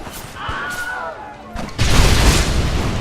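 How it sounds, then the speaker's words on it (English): A Gatling gun firing in the video game Red Dead Redemption, bursting in as a loud continuous roar of rapid shots after a stretch of voices and effects. "What about the Gatling gun?"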